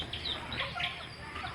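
Chickens clucking and calling in a backyard garden setting, a steady busy chatter of fowl sounds filling the space at moderate loudness with no talk over it.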